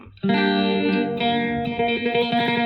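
An electric guitar played through a phaser effect rings out in sustained, shimmering chords with a sweeping, swirling effect, loud and close, with no talking.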